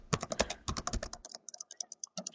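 Rapid, close keystrokes on a computer keyboard as a command is typed into a database server, a dense burst of clicks followed by sparser, irregular taps.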